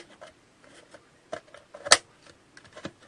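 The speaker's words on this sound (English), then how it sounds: "Now I'm putting the funnel back in." A plastic funnel is pushed and clipped back into a slug trap container, with a few short scraping and clicking knocks, the loudest snap near the middle, close and quiet.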